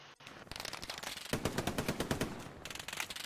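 Rapid machine-gun bursts ring out in a Hell Let Loose battle, a steady rattle of close, loud shots that keeps going across the moment without any voices over it.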